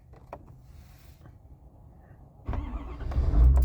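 A 2019 Ford F-250 pickup engine starting from cold. A quiet idle-like rumble gives way to a loud catch and a rising roar that builds over the last second, with no talking.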